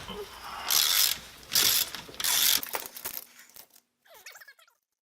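A hand ratchet clicks as it backs 9/16 nuts off the brake of a 2007 Keystone Cougar fifth-wheel trailer: three close, loud ratcheting bursts, then softer scattered clicks and handling noise.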